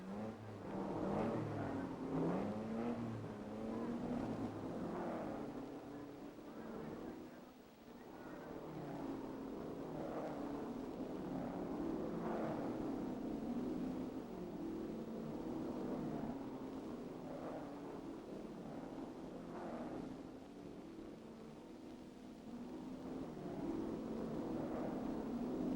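Race cars at the 1961 Le Mans road race, Jaguars leading the pack, heard as a continuous distant engine drone with rising and falling passes, fairly faint and steady throughout.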